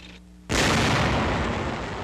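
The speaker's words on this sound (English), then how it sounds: "A tank destroyer goes into action." A WWII tank destroyer fires its gun in street fighting in France, 1944, one sudden loud boom that rolls into a long, heavy, noisy rumble after a quiet start.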